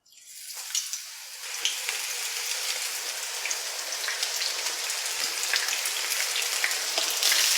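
Marinated soya chunks drop into hot oil and begin frying, the sizzle swelling quickly from silence into a loud, steady crackling hiss that continues to build slightly.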